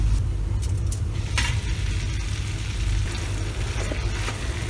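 Long beans stir-frying in a lidded pan without added water give a steady low sizzle and rumble throughout, with a few faint clinks of stirring near the start.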